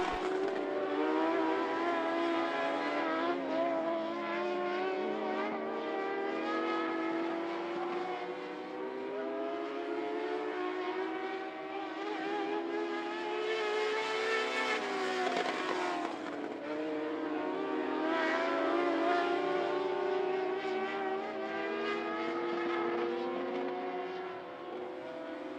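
Mod Lite race cars howl around I-75 Raceway on the final lap, a dense pack of engines droning loud and continuous with shifting pitch as they circle the oval, no voices over the roar.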